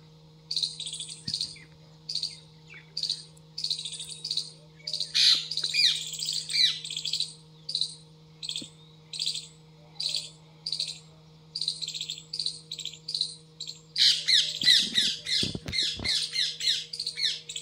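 A pair of parrots in a home yard in the morning give repeated harsh squawks and chattering calls in steady bursts, growing louder and denser near the end, with a faint steady hum beneath.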